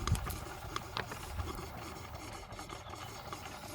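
A small live-steam model of a vintage 1880s oil drilling engine, a P.M. Research kit fed by a little boiler, runs with a light mechanical clatter and steady chuffing, a few sharper knocks near the start, close and moderately quiet.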